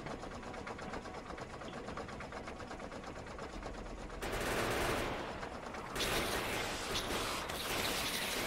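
Shotgun and bullet turrets in Factorio fire in rapid mechanical bursts, a steady rattling stream that swells into two denser volleys later on, moderately loud with no voices.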